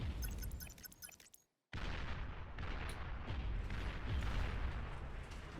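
Distant artillery barrages and booming impacts in a naval battle within a real-time strategy game, a steady rumbling wash of shots and explosions after a brief gap, fairly quiet overall.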